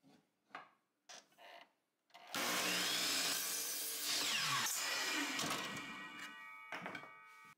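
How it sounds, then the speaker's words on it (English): A miter saw set to a 9-degree angle cuts through pallet hardwood: a few faint clicks and knocks, then the blade spins up loud and whines through the wood for several seconds before winding down. "Set your miter saw to 9 degrees on the front setting only,"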